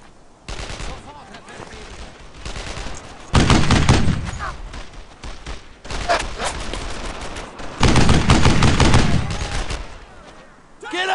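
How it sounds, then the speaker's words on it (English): Loud bursts of sustained suppressing gunfire in the WWII squad shooter Brothers in Arms: Earned in Blood, heavy volleys swelling and easing in waves, with soldiers' voices shouting now and then. "I need suppressing fire!"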